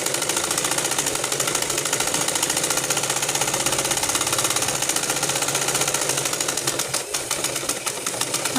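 A sewing machine stitching cut work embroidery runs in a steady, rapid mechanical whir close by, holding an even pace for the whole stretch with no voices.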